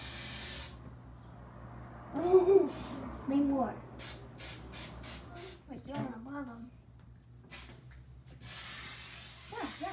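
Several short hissing bursts of cooking spray onto a waffle maker sound in quick succession, close by, with people talking before and after.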